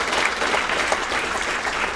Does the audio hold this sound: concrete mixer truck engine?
no